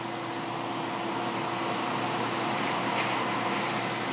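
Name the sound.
shop vac sucking up sawdust from the floor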